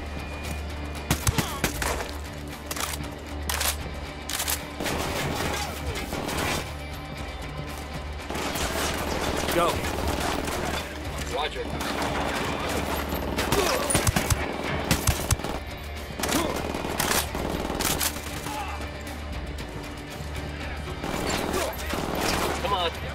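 Automatic and rapid gunfire bursts in Ghost Recon Wildlands, a military shooter game, crackling repeatedly over a steady background hum with layered sharp shots throughout.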